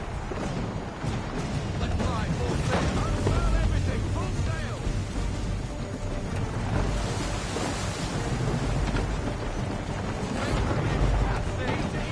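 A sailing ship at sea in Assassin's Creed 3 produces a steady, loud wash of wind, waves and creaking hull, continuous throughout, with voices speaking over the roar.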